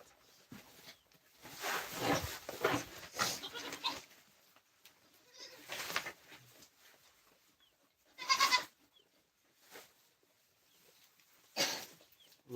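Goats bleat in separate bursts, a cluster early on and then single calls spaced several seconds apart, fairly close, with quiet gaps between.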